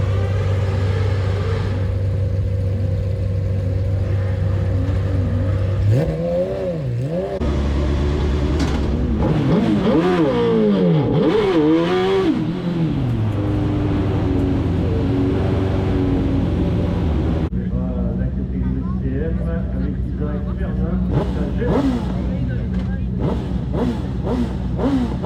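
A race car accelerates hard on a hill climb run at Donzy-le-Pertuis: its engine drones, then climbs in rising revving sweeps through the middle before settling into a steady roar, with a voice talking over it throughout.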